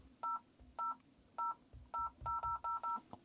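A series of short electronic beeps like a telephone keypad dialing, eight tones in uneven rhythm, fairly faint against quiet background noise, from a MAN TGE van during reverse camera installation.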